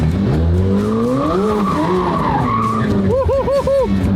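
Lamborghini SVJ on R888 tires sliding on slippery ground, a loud close engine howl rising and falling with squealing, skidding tires and a rapid series of revving pulses at the end.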